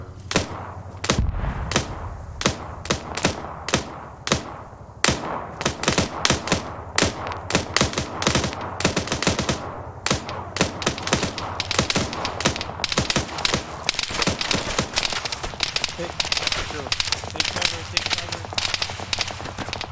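Sustained gunfire with a machine gun gives rapid, loud bursts of cracking shots across a combat scene. The shots keep going through the whole stretch with short gaps between them, and voices can be heard faintly underneath.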